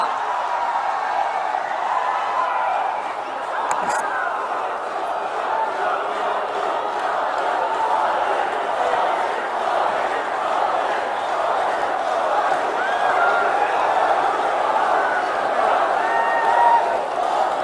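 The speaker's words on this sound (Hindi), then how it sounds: "तालियों की गड़गड़ाहट से स्वागत करें भारत के माननीय प्रधानमंत्री श्री नरेंद्र मोदी जी का" Large crowd at a public rally in Diphu, Assam, welcoming India's prime minister with sustained cheering and chanting, a dense, continuous roar from many voices.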